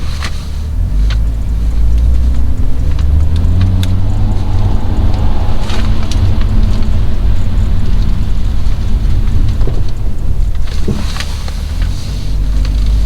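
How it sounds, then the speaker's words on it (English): A car on Nexen Winguard Sport 2 winter tires brakes on an icy, slush-covered road. Loud, continuous rumble of road and tire noise with a wash of slush, heard from inside the car without talk. "Icy patches, slush everywhere. Try some braking."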